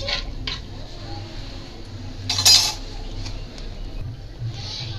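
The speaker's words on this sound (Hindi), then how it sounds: "और इसको अच्छे से मिक्स कर देना है।" A metal spoon scrapes and clinks against a pot of urad and bathua dal with turmeric in a few brief strokes, with one louder scrape midway, over low kitchen background hum.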